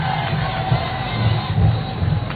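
A large crowd cheers and ululates for the president of Kenya at a public gathering, a loud, sustained roar of many voices with shrill ululation rising and falling over a couple of seconds.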